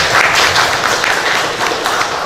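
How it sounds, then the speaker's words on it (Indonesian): A classroom group claps for a classmate after a tajwid lesson presentation, giving a short, dense burst of steady applause. "tepuk tangan untuk teman kita semua"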